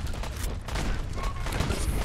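Gunfire in the video game Fallout 4, a dense continuous fusillade of rapid overlapping shots and rumbling booms lasting throughout, fairly loud with no clear talk.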